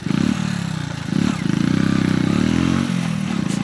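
A motorcycle pulls away with a loud, close, chugging engine that pulses rhythmically and dips briefly between throttle bursts, accompanied by some scraping clatter.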